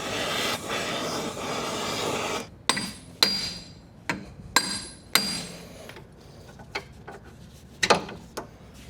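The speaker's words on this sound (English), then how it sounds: "just give this a couple baby taps to loosen that up" A seized suspension part on a Mini Countryman R60 gets about eight sharp metallic taps. They come in an uneven rhythm over a quiet workshop background, close and fairly crisp.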